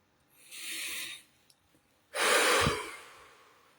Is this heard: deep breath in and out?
yes